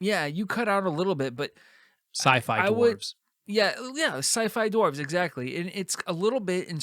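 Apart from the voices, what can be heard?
No distinct noise like a dog, phone or traffic.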